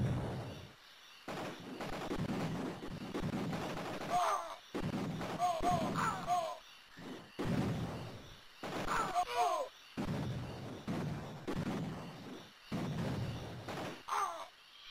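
Cannon and rocket launcher fire in the Amiga game Cannon Fodder 2, with repeated booming shots and explosive bursts at irregular intervals, separated by brief quiet gaps.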